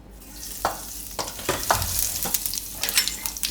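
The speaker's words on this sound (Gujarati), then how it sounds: "હવે તેલ આપણું ગરમ થઈ ગયું, ગેસ ધીમો કરી દઉં. આમાં આપણે નાખીશું થોડુંક જીરું" Cumin seeds hitting hot oil in a pan over a lowered gas flame, with a steady crackling sizzle and scattered pops and stir scrapes, close and alone.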